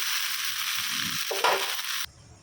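A paratha sizzles in a hot pan, a steady close hiss of frying that shifts briefly as it is handled, then cuts off abruptly near the end.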